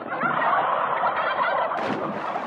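A turkey gobbles in a loud, rapid, rattling burst, followed by a sharper squawk near the end; close and continuous with no talking.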